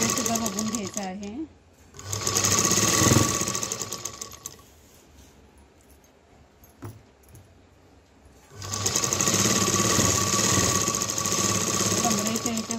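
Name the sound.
sewing machine stitching a gown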